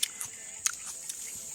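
A fresh tomato picked on a farm is bitten into and chewed, giving a few sharp, close crunches and soft crisp snaps with quiet pauses between them.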